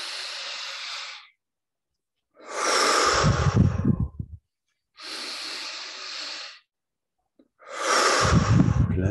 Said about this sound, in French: Encore trois grandes respirations.